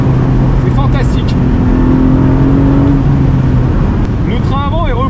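A 2019 Porsche 718 Spyder with a 420 hp engine roars loudly and continuously from inside the car, with rising rev blips on downshifts and a voice talking over it.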